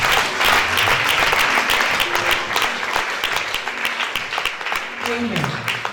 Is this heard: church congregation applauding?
yes